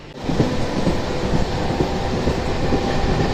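A MEMU Express train runs along the track, a steady close rumble with rhythmic wheel clatter heard from on board, with no voices.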